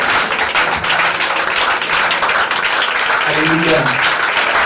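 A church congregation applauds and cheers in praise of Jesus Christ, a steady wash of clapping throughout with voices calling out over it.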